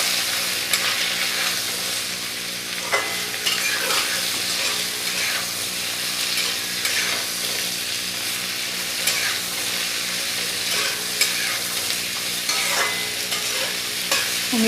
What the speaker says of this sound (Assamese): আৰু এতিয়া কাটি থোৱা অমিতাখিনি ইয়াতে বহাই দি দিছোঁ। আৰু এতিয়া ভালদৰে লৰাই দিছোঁ।